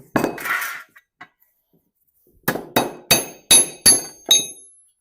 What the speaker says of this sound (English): bang with a hammer there.